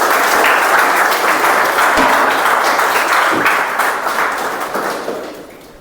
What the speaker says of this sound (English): Can I request all of you to give a thunderous round of applause for all.